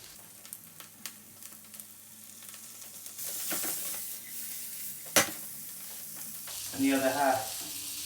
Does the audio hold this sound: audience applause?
no